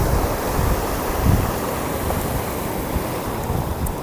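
Surf rolling onto the south coast beach at the Likotobi estuary on Taliabu island in Indonesia, a steady broadband wash of waves with wind buffeting the microphone, loud and continuous.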